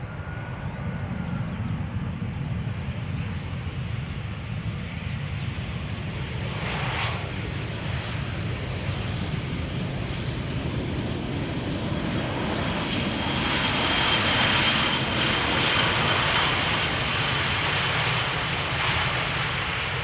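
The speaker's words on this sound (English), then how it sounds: "A319 having arrived from Bristol." An EasyJet Airbus A319 jet arriving at Schiphol Airport gives a continuous engine roar that slowly swells louder toward the end as it draws nearer.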